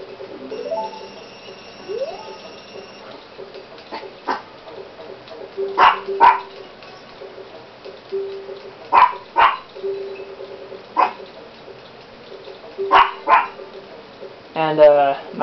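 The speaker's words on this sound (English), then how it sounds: "He's barking." A dog barks outside a door during a Legend of Zelda: Ocarina of Time game session. The sharp barks repeat at intervals over game music and sound effects, heard faintly from a distance while someone talks.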